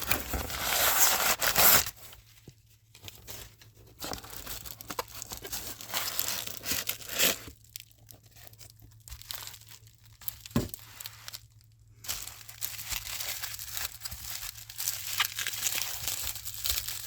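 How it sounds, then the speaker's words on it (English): Bubble wrap crinkles and rustles up close while graded Pokémon cards are unpacked, with irregular crackling bursts, tearing-like scrapes and quieter handling between them, and no talk. "I guess I don't have to cut that bubble wrap, I can just slide it through"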